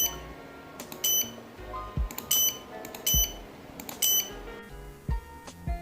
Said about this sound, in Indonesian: Indikator buzzer akan berbunyi.